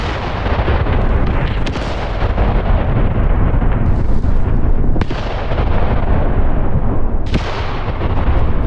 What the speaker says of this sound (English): Let's keep the mortars shooting.